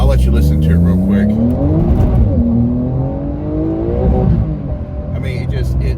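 Porsche 911 (992) with cold tires, engine revving hard while driving, loud rising and falling engine pitch sweeping up through gears, close and continuous throughout.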